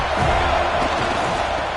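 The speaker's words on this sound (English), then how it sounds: "This crowd bringing the energy and noise early" Steady roar of a stadium crowd in a college football video game, a dense broadband wash of noise holding at an even level throughout with no distinct voices standing out.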